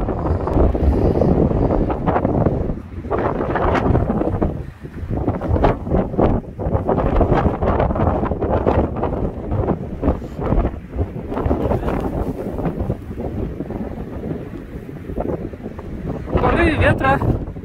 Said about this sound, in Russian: Ветра мощные